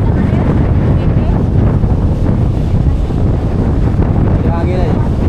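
Typhoon Ramil's wind roars and buffets the microphone continuously and loudly in Dinahican, Infanta, Quezon, Philippines, with a faint voice briefly audible near the end.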